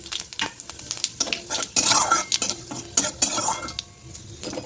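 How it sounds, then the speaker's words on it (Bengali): Five-spice tempering is stirred in mustard oil in a pan: busy metallic scraping and clinks of a spoon against the pan over a light sizzle, close and fairly loud. "এবার আমি এর মধ্যে একে একে পাঁচ ফোড়ন দেবো"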